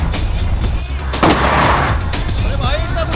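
Loud gunshots crack and boom amid a dense, noisy Hindi comedy film action scene, with a heavy blast near the middle and faint voices mixed in.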